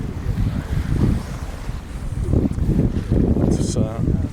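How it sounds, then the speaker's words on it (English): Sea waves wash and rumble continuously outdoors at Can Pastilla, Mallorca, with gusty wind buffeting the microphone and a brief higher sound near the end. "I like the sound of the sea."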